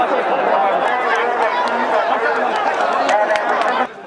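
A dense crowd at a local fishing festival with sports and games, many voices chattering and calling together in a steady, loud wash that cuts off abruptly near the end.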